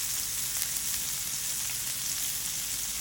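Steak and butter sizzling in a hot pan, a soft, even crackling hiss with tiny pops, steady and fairly quiet with no voices.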